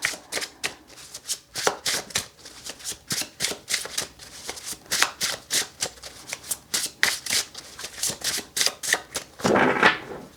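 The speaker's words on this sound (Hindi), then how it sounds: "तो आपके कार्ड्स को शफल करते हैं।" Tarot cards being shuffled by hand, heard as a close series of rapid riffling bursts in an uneven rhythm that runs throughout, with no talk over it.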